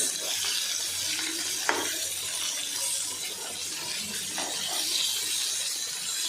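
Bombay duck and pomfret fish frying in a pan, a steady bright hiss and sizzle of hot oil running throughout, with a few small pops and clinks and no talking.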